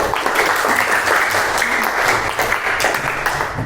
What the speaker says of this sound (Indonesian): Bu Puji minta tolong tepuk tangannya untuk Mbak Mariska